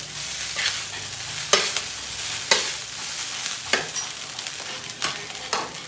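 Fried rice stirred and cooked in a pan, with a steady sizzle broken by sharp scrapes of the spatula at an irregular beat, close and clear with no talking.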